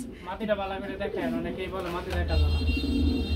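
Pigeons offered for sale in pairs coo in a warbling burst close by as someone speaks, and a steady hum follows.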